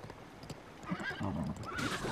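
A horse in Breath of the Wild neighs and whinnies in two bursts, the second rising higher near the end, over soft game ambience and hoof clatter.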